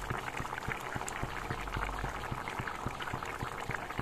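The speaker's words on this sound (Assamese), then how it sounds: "আঞ্জাখন উতলিবলৈ ধৰিছে" Assamese fish curry simmers in a pot, a steady bubbling with soft, regular pops repeating throughout at close range, no voices over it.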